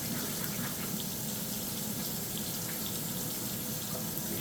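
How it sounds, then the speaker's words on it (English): Tap water runs steadily into a kitchen sink while hands are washed beneath it, a constant close rushing splash with no talk. "Make sure you wash them well"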